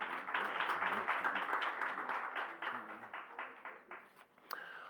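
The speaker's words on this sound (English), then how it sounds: "So please also give yourselves a round of applause." Audience applause at a report launch event, steady clapping in a room that gradually thins into scattered claps, fairly quiet overall.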